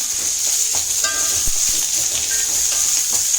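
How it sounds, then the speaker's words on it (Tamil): Onion frying with bitter gourd in a pan for a Tamil poriyal, a continuous loud sizzle with a few clanks and scrapes of stirring, no talk. "இப்படி நம்ம வந்து வெங்காயம் போட்டோம்"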